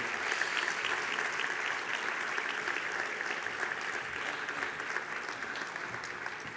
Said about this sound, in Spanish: recibamos con un aplauso, por favor